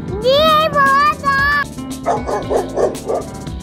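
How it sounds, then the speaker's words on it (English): A dog gives a few quick yipping barks up front, then a voice carries on over a musical backing. "D for dog."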